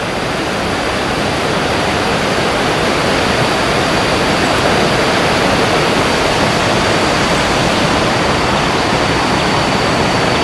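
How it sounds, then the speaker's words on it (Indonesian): A large river circling the Bogor Botanical Garden rushes steadily and loudly, a constant close roar of flowing water with no pauses and no voices. "Ini ada sungai besar."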